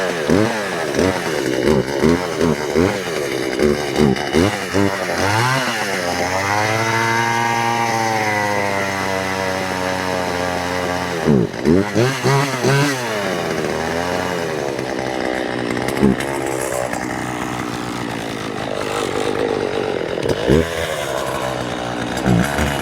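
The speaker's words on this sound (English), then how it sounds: "Now that this young man has a sharpened saw" A chainsaw runs loud and close, revving up and down repeatedly with steady engine drone and pitch swings throughout.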